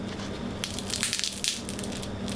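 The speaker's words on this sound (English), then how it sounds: "I'm gonna go right in, take a full bite, crispy" A single loud, crackly bite into crispy baked banana peel vegan bacon, with close-up crunching bursts in quick succession.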